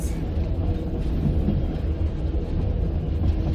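The Yellow Train in the French Pyrenees rolls steadily along the rails, a continuous heavy rumble with rattling, heard from on board with no talking.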